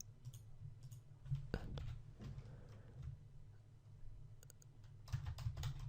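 Typing on a computer keyboard while writing HTML text, steady clicking keystrokes in uneven bursts, close and moderately loud, with no talking.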